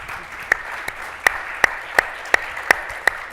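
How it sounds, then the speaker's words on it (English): An audience applauds a conference panel briefly, a steady wash of clapping with a few louder, evenly spaced claps standing out. "Let's give everybody a round of applause."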